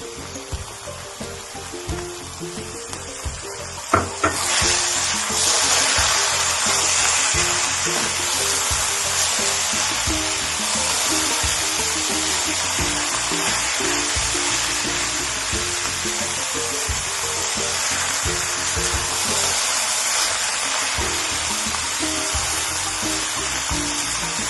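Carrot halwa roasting in a pan gives a steady, dense sizzle that runs loud and unbroken after a brief clatter near the start, with no talking.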